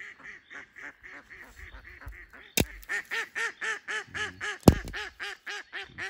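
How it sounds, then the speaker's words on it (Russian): A live decoy duck, bathing and calling to a drake during a spring hunt, gives a long run of steady, rhythmic quacks, loud and close, with two sharp knocks partway through. "Живая приманка, уточка. Она купается и начинает созывать селезня."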